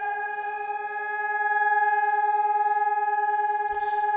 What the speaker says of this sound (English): The siren will go off soon.